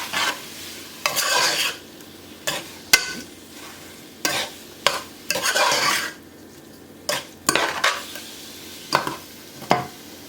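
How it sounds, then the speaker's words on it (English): Intermittent scraping strokes of a spoon stirring chicken noodle soup in a pot, coming in short separate bursts with quiet gaps between them, close and fairly clear with no talking. "Mix together."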